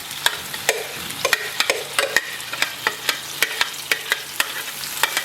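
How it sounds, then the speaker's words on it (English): Soto mie paste ingredients, scooped in with their liquid, frying in a pan until fragrant, with a steady sizzle broken by repeated sharp clinks and scrapes of stirring, close and fairly loud. "And we're just going to fry it for a couple minutes while it becomes just a little bit more fragrant."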